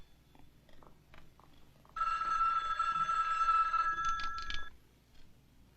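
An electronic telephone ring sounds for about three seconds, loud and close. Faint rustling and low room noise come before and after it.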